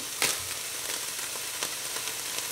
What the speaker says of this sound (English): I'm going to give this a little stir just to kind of saute the garlic and onion a little bit.